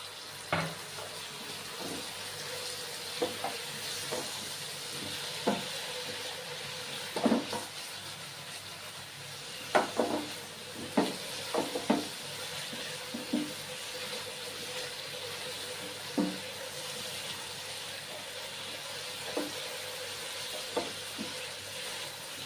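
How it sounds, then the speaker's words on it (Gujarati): Potatoes for a vegetable sandwich cook in oil in a pan, giving a soft, steady sizzle with scattered light clicks and taps of utensils throughout, fairly quiet and without speech. "આપણે આ બટેકાને તેલમાં ચડવા દેવાના છે"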